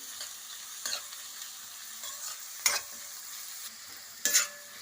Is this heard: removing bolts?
no